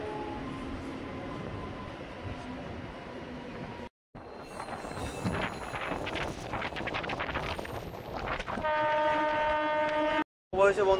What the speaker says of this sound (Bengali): ট্রেন ঢুকলো আমাদের খেতিয়া রেলওয়ে স্টেশনে